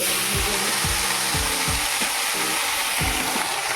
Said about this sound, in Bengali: মূলো শাক ভাজা দেখো কড়াই চাপিয়েছি